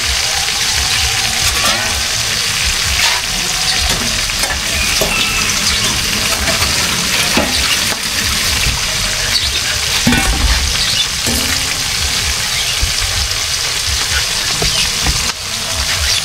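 Freshly caught fish frying in very hot cooking oil, a loud, steady, dense sizzle and crackle throughout with occasional bubbling pops up close.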